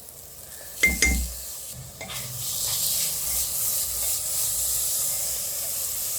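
Grated coconut is stirred into melting jaggery in a pan for modak filling. A couple of spoon knocks come early, then a steady, moderately loud hissing sizzle carries on.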